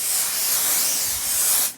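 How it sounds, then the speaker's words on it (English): 505 basting spray hissing in one steady burst from an aerosol can onto quilt batting, close and loud, lasting under two seconds before cutting off. "I'm just going to spray a little bit of that on there"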